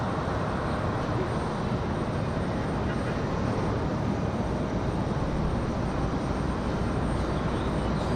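A Cessna Citation 3 business jet touches down at Raleigh-Durham International airport, heard as a continuous broad roar of jet noise, steady and fairly distant, with no talk.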